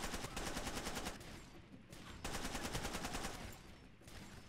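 Rapid bursts of Uzi submachine gun fire in the video game Far Cry 2, two long loud rattling volleys separated by a short pause.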